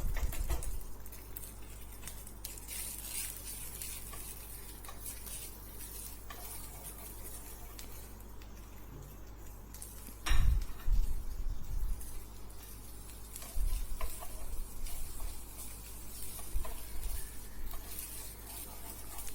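Onions and chopped vegetables frying in a pan for veg momos, with a steady broadband sizzle and occasional louder scraping stirs, close and continuous with no talking.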